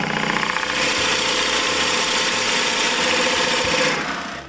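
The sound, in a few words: drilling a 1.5 inch hole in a wooden hat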